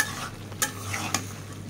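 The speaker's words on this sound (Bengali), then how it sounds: "আবার একটু নেড়ে চেড়ে নিচ্ছি।" Small fish with cauliflower and potatoes are stirred in a frying pan, a soft sizzle running throughout with two crisp scrapes of the spatula against the pan.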